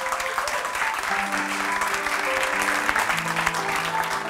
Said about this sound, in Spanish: para apoyar este viaje, un fortísimo aplauso.